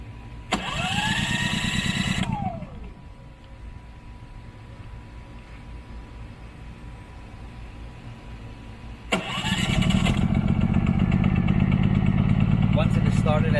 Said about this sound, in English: that is the sound of the generator